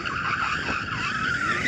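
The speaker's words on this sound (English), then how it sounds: "Drift forward. Oh, poor tyres." Car tyres squeal continuously as a car drifts forward, a loud, sustained high-pitched screech with slight wavering, heard at moderate distance with engine noise underneath and no talking.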